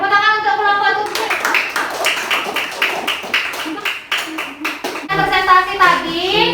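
Children clap together in a classroom for group seven, a burst of many quick hand claps that goes on for about four seconds, with a teacher's voice speaking before and after.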